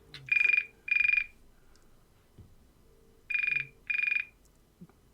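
A telephone rings in a Paranoia tabletop game, two pairs of electronic trilling bursts separated by a pause, clear and close, with faint background shuffling.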